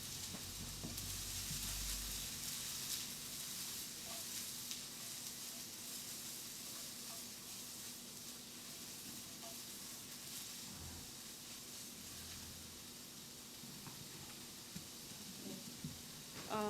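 Mushrooms sizzle in a pan on the stove, a soft, steady frying hiss that runs unbroken for the whole stretch with faint crackles and stirring noises.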